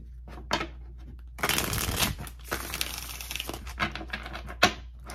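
Tarot cards handled and shuffled in a reading session, a close run of riffling, flicking bursts with brief pauses and soft card taps, fairly loud and steady with no voice over it.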